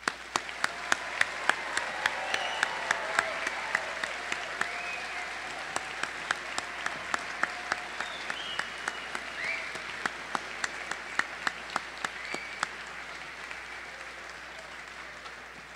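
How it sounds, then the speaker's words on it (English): An audience applauds steadily at a pharmacy graduation hooding ceremony, with scattered individual claps standing out over a warm, sustained wash of clapping in a large room. "congratulate and honor graduates with another round of applause"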